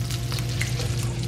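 Close, steady sizzling and crackling of eggs frying in a hot pan, continuous over a low kitchen hum.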